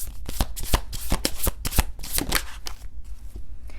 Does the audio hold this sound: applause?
no